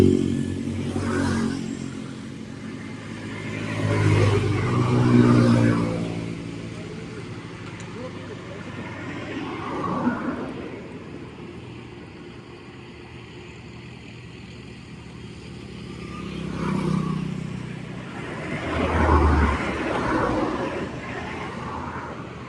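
A Royal Enfield Bullet motorcycle engine runs during a carburetor mileage test, idling with several rising revs and lulls, while someone talks over the engine throughout.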